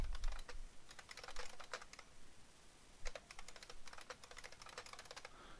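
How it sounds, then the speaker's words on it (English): Someone types on a computer keyboard while editing a WordPress website: close, quiet clusters of rapid key clicks in short bursts separated by brief pauses, with no voices. "where I can type in the text that goes with it"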